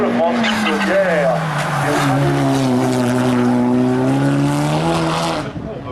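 A Lotus Elise race car climbs a hill-climb course, its engine note rising and falling loudly and close through gear changes, continuous for several seconds before fading at the end.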